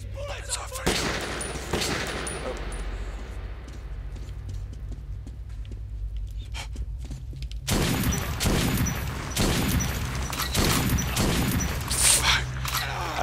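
Gunfire in the video game Metro 2033: repeated broadband shots and bursts through a sustained firefight with a low engine-like drone, growing louder and denser in the second half.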